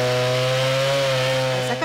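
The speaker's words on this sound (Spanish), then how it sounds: "con corvos y motosierra las ramas fueron cortadas" Chainsaw cutting the branches of a fallen tree, a loud, close, steady engine drone that holds for almost two seconds and then wavers briefly at the end.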